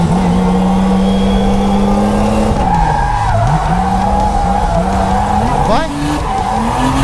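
A car drifts in a practice session, its engine revving hard while the tires squeal and skid loudly and continuously, rising and falling in pitch, with an excited voice briefly heard over it.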